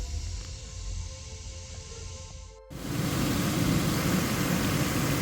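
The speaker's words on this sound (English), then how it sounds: "So I'm going to turn the engine on." A 2008 Nissan Pathfinder LE V6 engine cranks and catches partway through, then settles into a steady, loud broadband running roar that fills the rest of the moment after a quieter stretch.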